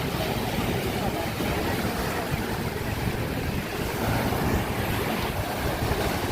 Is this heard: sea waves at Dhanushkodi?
yes